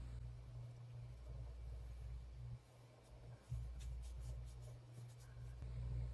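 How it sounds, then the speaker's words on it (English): A pencil crayon scratches softly across watercolor paper in quick, faint strokes over a low steady hum, with no talking. "again, the pencil crayon will come in handy."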